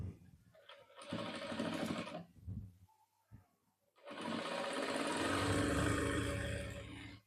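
Sewing machine stitching the seams of a ladies coat, running in two sustained bursts of fast mechanical whirring with a brief pause of softer handling noise between them, close and loud.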